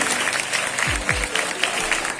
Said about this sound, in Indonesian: Sekali lagi tepuk tangan untuk calon ketua tim